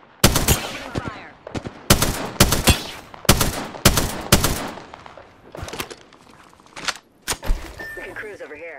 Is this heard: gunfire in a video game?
yes